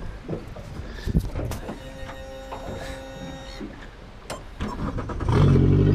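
Outboard engine on a Honda boat cranking and catching, with a whirring start and a louder steady idle rumble building at the end, close by.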